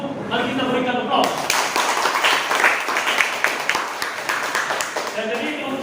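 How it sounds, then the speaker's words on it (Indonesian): Classroom applause for group 1, dense steady clapping from many hands after a short stretch of talk, continuing for several seconds before trailing off as a voice resumes. "Mari kita berikan aplaus."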